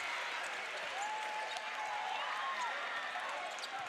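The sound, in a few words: basketball crowd applauding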